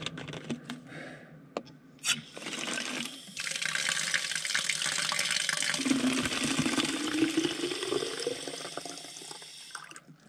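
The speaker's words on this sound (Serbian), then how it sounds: "Da dopunim malo vodičku." Water running from a tap into a water bottle being refilled, a steady close rushing stream that rises in pitch as the bottle fills, following a few clicks and knocks.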